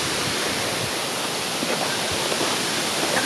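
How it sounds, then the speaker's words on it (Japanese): A park waterfall near Arima Onsen roars with a steady, dense rush of falling water, loud and close, filling every moment without a break and with no voices. "もうすぐそこが滝ですね。 滝になってます。"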